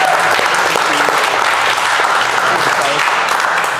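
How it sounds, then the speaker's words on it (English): A live audience at a startup talk event applauds steadily, a dense wash of clapping that holds at full strength throughout with no gaps. "Can we get a big round of applause for Michelle from Evaheld?"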